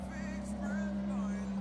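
An Aston Martin Valkyrie race car in a Le Mans racing video game holds a steady, loud engine drone with a strong low hum, continuous and close throughout.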